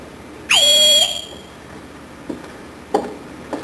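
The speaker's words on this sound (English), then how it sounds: "Everyone in this house answers to a whistle." A sharp, loud whistle blast summons a household, rising quickly to a piercing sustained tone for about half a second, followed by a few faint knocks and footsteps in a quiet room.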